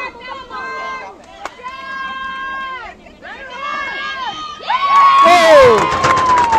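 A crowd at a youth baseball game cheers and shouts, its noise swelling loudly toward the end. Excited children's voices and a commentator's talk run through the whole stretch.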